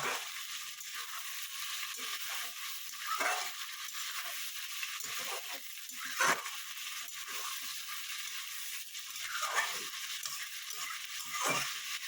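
Chicken pieces fry in a pan with a soft, continuous sizzle, punctuated by periodic scraping stirs of a spatula, fairly quiet and close with no talking.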